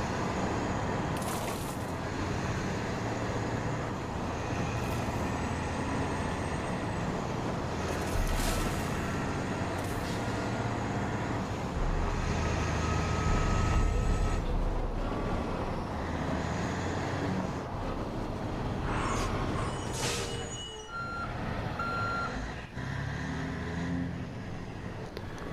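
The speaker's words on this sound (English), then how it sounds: "I'd know the sound of that truck anywhere." A truck in the Far Cry 5 video game drives and reverses, a fairly quiet, continuous engine and road drone lasting throughout, with occasional clicks and brief higher tones over it.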